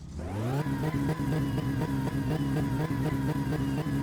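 Car engine on stock tuning with a double carburetor in My Summer Car, revving hard and steadily at close range, its pitch rising quickly and then holding a loud, pulsing drone throughout.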